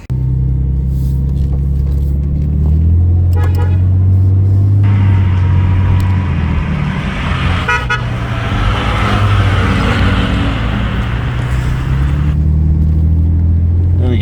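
A Jaguar XJS rumbles steadily at close range, with a strong low engine drone that holds throughout and rises in level partway through, plus a few brief high tones.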